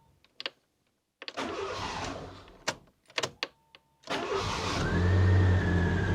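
A few clicks and a brief cranking whir, then a Fiat Panda 4x4 engine catches with the key and settles into a steady idle rumble close by.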